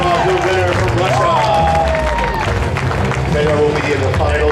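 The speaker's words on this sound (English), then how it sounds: "Guys, give a round of applause to your athletes." Loud applause and cheering fill an arena at a Mas-wrestling world championship in Columbus, USA, a steady wash of clapping crowd noise with an announcer talking over it.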